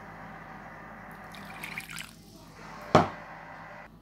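A little water is poured into lamb liver cooking in tomato sauce, giving a soft trickle followed by one brief, sharp splash and clink at close range.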